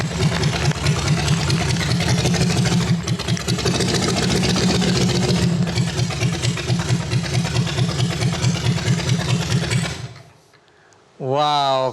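A custom-built motorcycle engine runs loud and close with a throbbing, rhythmic idle for about ten seconds, cuts out briefly, then a revving rise comes in at the end.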